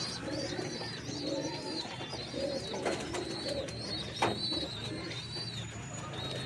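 Pigeons in a sale loft, old-generation males and females, keep up a steady, layered cooing throughout, with thin bird chirps above and no voices over it.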